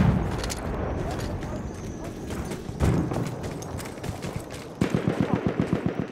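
Gunfire in Battlefield 1 crackles in rapid bursts, building to a fast rhythmic volley near the end.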